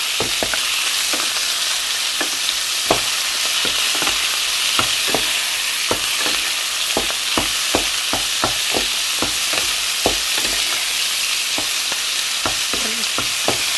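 Pork belly stir-frying in a little oil for a ginger stir-fry, a loud continuous hissing sizzle punctuated by a regular series of sharp spatula taps and scrapes on the pan, close and sustained, without voices.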